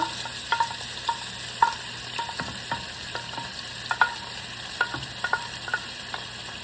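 Shrimp and squid frying in a pan for seafood pasta: a steady low sizzle runs underneath, broken by a scatter of sharp pops and light clicks spread unevenly through the clip, with no talking.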